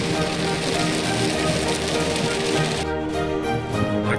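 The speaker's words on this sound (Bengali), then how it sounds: "বেশ জোরে বৃষ্টি হচ্ছে।" Heavy rain pounds steadily on a budget SUV crawling slowly through traffic, a dense, loud drumming that drops slightly in intensity near the end.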